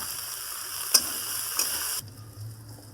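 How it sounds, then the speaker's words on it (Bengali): Spice paste and onion paste for a gugli (freshwater snail) curry sizzle steadily in hot oil while being stirred, with a couple of sharp spoon clicks, before the frying hiss drops to a quieter simmer partway through. "অল্প একটু একটু মশলা দিলাম ওটা তেলে নেড়ে নিচ্ছি"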